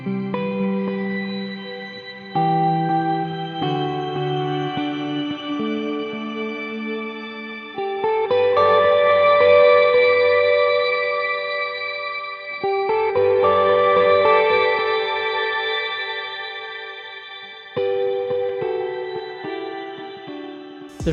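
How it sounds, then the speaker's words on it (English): A guitar played through the shimmer reverb of a NUX Cerberus pedal, sustained chords blooming into a bright, octave-up wash of shimmering echoes that swell and fade, with no talking. "that's the much loved shimmer reverb"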